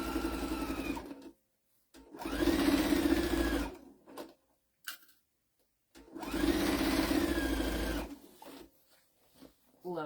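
A sewing machine fitted with an even feed foot stitches in two steady whirring runs of about two seconds each, separated by quiet pauses and small clicks of the fabric being handled.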